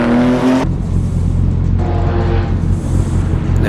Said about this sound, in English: You hear the cars screaming.